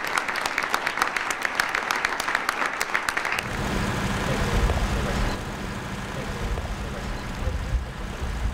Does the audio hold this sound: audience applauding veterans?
yes